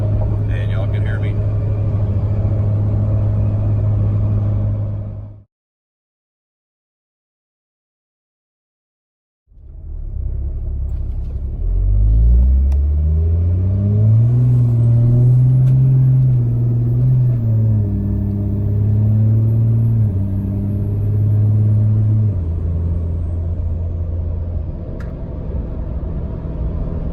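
A 2014 Ram 2500 Cummins diesel with an S465 turbo and triple-disc torque converter rumbles loudly from inside the cab, cuts out briefly, then pulls at half throttle with engine pitch rising through gear shifts and a faint turbo whistle.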